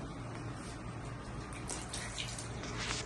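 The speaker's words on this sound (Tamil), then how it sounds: "இப்போ கிட்ட தண்ணி கொடுக்குறேன் பாருங்களேன்" Water pours steadily from a container for a thirsty animal on a hot day, a continuous splashing gush that stays fairly close and even throughout with no talk.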